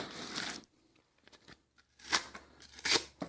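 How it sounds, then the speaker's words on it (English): Kershaw HCR 13 MOV knife whittling wood: two clusters of dry scraping, crunching cuts at the start and end with a quiet pause between, close and fairly loud. "we're going to do some whittling with our HCR 13 MOV"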